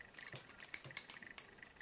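A tangled metal bracelet clinks quietly while makeup is applied, giving several light, irregular jingles and taps over about two seconds.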